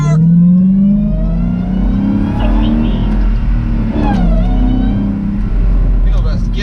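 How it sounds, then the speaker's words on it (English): 2017 Dodge Challenger Hellcat accelerating, its supercharger whine rising and shifting in pitch over a deep, loud engine drone heard from inside the car. "getting this Hellcat and the supercharger, woo! Whiny, whine"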